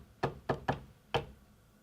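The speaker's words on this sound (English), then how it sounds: "There was a knock to my left or to my right." Four sharp knocks inside an old county infirmary, the first three coming in quick succession and the fourth after a short pause, close and distinct against a quiet, faintly humming room.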